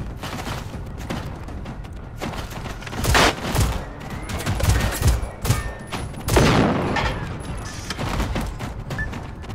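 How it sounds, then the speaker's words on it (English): Dense gunfire and explosive bursts while shooting hostile machines in the video game Generation Zero, a busy, continuous barrage with louder blasts rising near the middle. "So if we shoot that thing on their back, they explode instantly."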